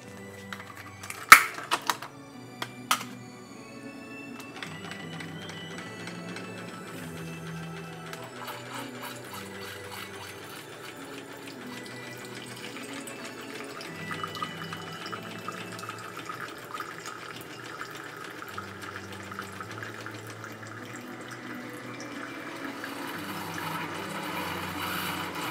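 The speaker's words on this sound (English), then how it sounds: "then we'll go ahead and make our cup of coffee" A coffee maker brews a cup: a few clicks and clatters at the start, then a steady low hiss and gurgle of water heating and dripping that slowly builds over time.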